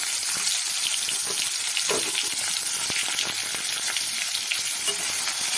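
Chopped onion and green chili are frying in hot oil after spices, giving a steady, loud, close sizzle with occasional crackles and stirring scrapes and no talking.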